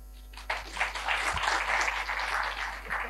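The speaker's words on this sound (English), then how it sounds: "this one genuinely deserves a clap" A student audience at a university conversation event with a caretaker prime minister breaks into applause that swells quickly and holds as a dense, steady round of clapping for several seconds.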